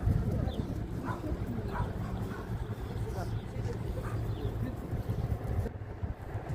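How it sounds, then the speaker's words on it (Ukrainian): A stray dog barks and whimpers in a village during street sterilization catching, the yelps and short barks mixed into steady outdoor noise with people talking nearby. "Нам саме головне оцю собачку зловити, ось цю, що біжить."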